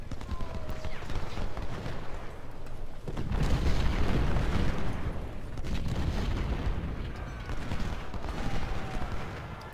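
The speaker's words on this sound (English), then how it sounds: "our artillery will start shooting into Law" Artillery fire in the Ultimate General: Civil War video game, heard as dense rumbling booms and volleys swelling and fading across the battlefield, loud and continuous with no voices.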